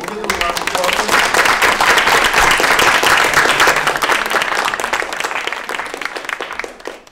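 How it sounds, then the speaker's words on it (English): An audience applauds a string quartet, a dense wash of clapping that stays loud and steady for about seven seconds before tapering at the end. "We'll give them a round of applause."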